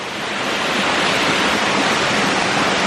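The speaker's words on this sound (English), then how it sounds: "Top of the waterfall reached." A waterfall in Phong Nha National Park roars loud and close, a dense unbroken rush of falling water with no voices.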